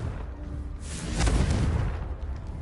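A Confringo blasting spell explosion in Hogwarts Legacy, a single deep, rumbling boom swelling up mid-clip and fading out over a couple of seconds.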